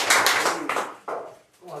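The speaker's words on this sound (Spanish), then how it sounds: "Damián, el pibe 10, aplauso." A studio audience claps to welcome the guest, Damián 'El Pibe 10', onto a 2020 Argentine TV show; the applause comes in close, dense bursts under an excited host's voice.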